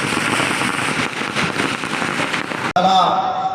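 Firecrackers set off at a celebration honouring someone on Ambedkar Jayanti, a loud dense rapid crackle of bangs for several seconds, cut off abruptly before a voice is heard speaking.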